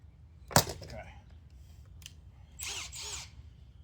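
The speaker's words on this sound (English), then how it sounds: "I'm gonna drill." Power drill boring dowel holes in wood for a dining room table, a short sharp burst of drilling followed by a second, longer whirring pass, close up with a bit of speech around it.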